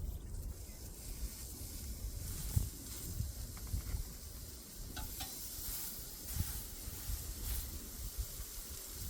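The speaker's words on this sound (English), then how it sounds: "they're starting to sizzle." Bacon frying in a pan over a campfire at a lakeside campsite, giving a steady, soft crackling sizzle with faint pops, while wind rushes in the background throughout.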